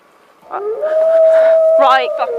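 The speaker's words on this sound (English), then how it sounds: "the growling suddenly stopped, only to be replaced by an eerie howl from the opposite direction" A single drawn-out, eerie howl rises and holds steady, with a few sharp voice-like yelps breaking in near the end.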